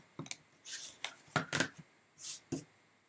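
Scissors snip extra fabric from the edge of a quilt block, a few short crisp cuts and rustles spaced across a quiet moment, close and fairly soft.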